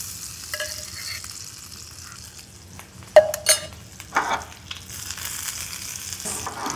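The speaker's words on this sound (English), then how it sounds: "What we're going to do is add some butter to our pan. The pan is just warm enough." Butter and brown sugar sizzle softly in a warm pan, with a quiet, steady fry under scattered clinks and scrapes of stirring, including a few sharper knocks near the middle.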